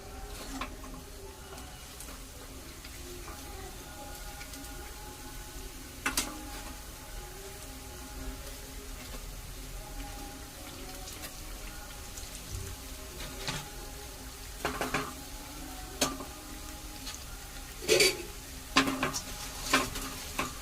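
Garelu, Telugu lentil fritters, fry a second time in hot oil with a steady soft sizzle. Occasional sharp clinks and stirring knocks of a utensil against the pan cut through the bubbling.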